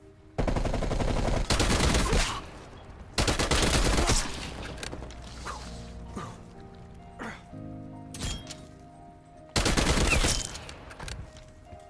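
Rapid SMG bursts in Black Ops Cold War, several loud volleys of automatic gunfire separated by short pauses and quieter in-game sounds.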